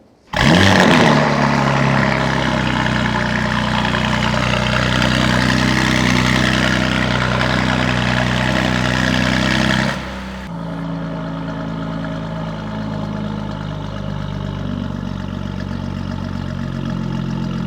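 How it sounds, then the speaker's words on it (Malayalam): A Porsche Panamera 4 10th Anniversary Edition fitted with an aftermarket exhaust burbles loudly at close range, a deep steady idle that drops to a lower, quieter rumble about two thirds of the way through. "പോഷയുടെ പനമേര 4 എൻ്റെ എക്സോസ്റ്റിനോട് ഞാൻ ഒന്ന് കേൾപ്പിച്ചു തരാം"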